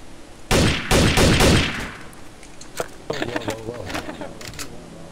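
Gunfire in Trouble in Terrorist Town: a burst of rapid, loud shots followed by a few scattered single cracks, with talk in the background.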